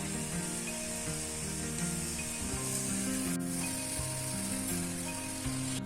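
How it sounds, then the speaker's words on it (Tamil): Chopped spinach is stirred into frying masala in a pan, making a steady sizzle with soft scraping and rustling as the leaves are turned, close up and fairly quiet. "இப்ப நம்ம பாலக்கீரையை இந்த மசாலாவில் சேர்த்திக்கலாம்"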